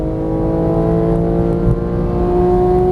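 A Porsche 911 GT3 of the 991 generation pulls hard after an upshift on track, its engine a loud, steady, close drone that rises slightly as it accelerates.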